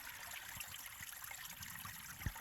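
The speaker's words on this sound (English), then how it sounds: "I'm starting to hear the creek a lot more behind me." Steady broadband rush of flowing water, like a creek running nearby, continuous and fairly soft, with a few faint low thumps.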